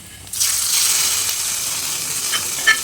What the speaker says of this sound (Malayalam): ഇനി നമുക്കിതിലേക്ക് കുറച്ച് കൊച്ചുള്ളിയും കടുകും കറിവേപ്പിലയെല്ലാം വറുത്ത് ചേർക്കാം